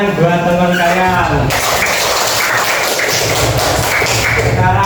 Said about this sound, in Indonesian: Nah, tepuk tangan buat teman kalian.